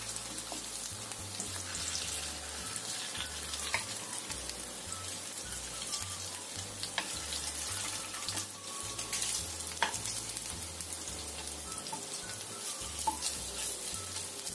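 Steady, dense sizzling of food frying in hot oil, continuous and close, with occasional louder pops and crackles throughout.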